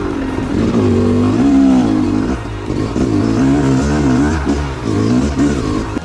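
A Yamaha YZ250 two-stroke dirt bike fitted with a Billetron carburetor revs repeatedly, its engine note rising and falling in several loud, close throttle blips.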